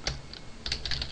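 Quick bursts of keystrokes on a computer keyboard while Java code is typed, close and clear, in two short clusters with no talk.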